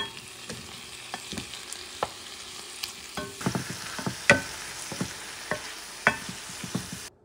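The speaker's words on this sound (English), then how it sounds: "Mix the sofrito and the sauce together and get the sausage ready." Sofrito and sauce being mixed together in a pan, with a spoon scraping and stirring in irregular strokes over a soft background sizzle, close by and with no talking.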